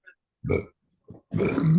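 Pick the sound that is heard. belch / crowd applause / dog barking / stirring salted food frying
belch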